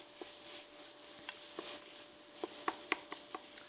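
Salmon chowder being stirred in a pot, giving soft scraping and light clinks of a utensil against the pot at an uneven pace, faint and close with no talking.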